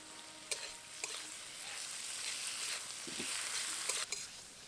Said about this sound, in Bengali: পেঁয়াজটা হালকা বাদামি ভাজা হয়ে এসেছে, এখন এর মধ্যে দিয়ে দেবো দুটি মাঝারি সাইজের টমেটো কুচি।